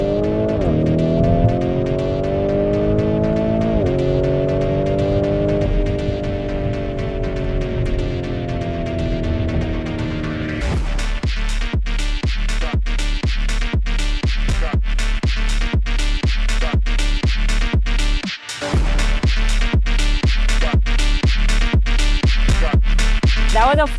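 A Porsche sports car engine revs and climbs through a gear, then drops into a loud, rapid pulsing drone as the drive continues. The sound is close and forceful throughout, with a brief cut near the end.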